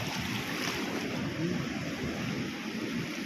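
Strong ocean waves surge against a rock formation at Sabang, Palawan, producing a steady, loud, broadband roar of surf and rushing water with wind across the microphone, with no talk.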